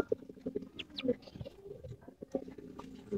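Giribaz pigeons coo in a loft, with several soft, low, throaty calls repeated in short bursts over light shuffling and patter, close by and fairly quiet.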